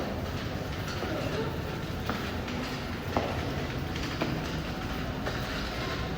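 Metro train rumbling through a Montreal subway station, a steady, dense roar of wheels on rails with faint clicks and clacks, with voices faintly present under the noise.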